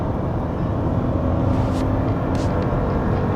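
Hyundai Casper turbo with a four-speed automatic accelerating hard at full throttle with two men aboard, a steady dense engine and road roar heard from inside the cabin, with no talk over it.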